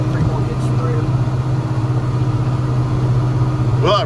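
A big Massey Ferguson 4900 tractor's engine runs steadily at idle with a constant low hum throughout, close and loud, while a voice speaks briefly over it.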